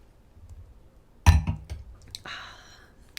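A wine glass holding water gives a sharp clink as it is set down or knocked, then a few lighter taps and a faint ringing rustle follow, all quiet and close, with no speech.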